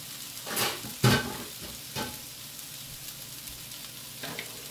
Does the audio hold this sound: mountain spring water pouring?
no